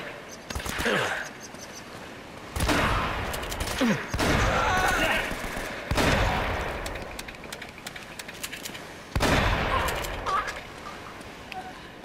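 Gunfire in Uncharted: Drake's Fortune, heard as several bursts of dense, noisy shooting that cut in and out over a steady background, loud and fairly close, with someone speaking between bursts.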